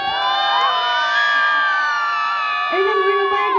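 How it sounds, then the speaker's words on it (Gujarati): A crowd at a sangeet night whoops and cheers loudly in sustained high-pitched shouts, close and continuous, with little clapping evident. "એકવાર જોરદાર તાળીઓ સાથે બૂમ પણ આવવી જોઈએ"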